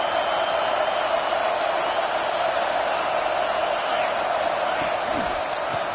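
Steady crowd roar from a college football stadium in the NCAA 26 video game, a dense continuous wash of cheering that holds at an even level throughout.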